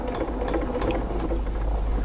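A sewing machine runs steadily at full speed, feeding a strip of fabric through with a continuous mechanical whir and fast rhythmic needle ticks, close and clear with no talking.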